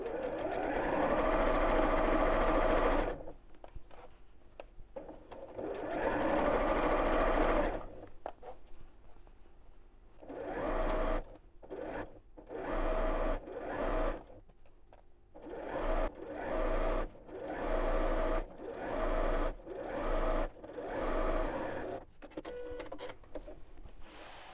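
A sewing machine stitches the channel of a scallop-top gift bag, buzzing in several runs: two long stretches, then many shorter bursts separated by brief pauses, close and clear.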